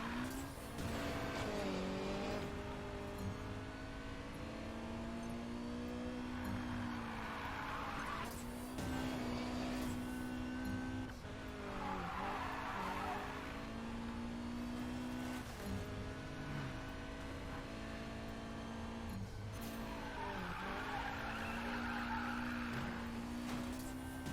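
Car racing in the video game Need for Speed Payback: a loud engine revs and climbs through gears, with repeated tire squeals and skids during cornering, continuous and close, with no talking.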